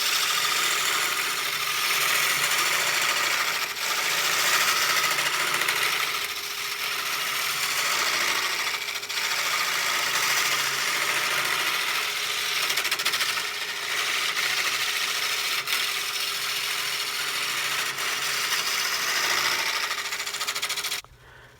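A woodturning lathe turns punky spalted birch while tools scrape the surface, giving a steady, continuous grinding hiss with a low motor hum underneath that runs without a break and then cuts off abruptly at the end.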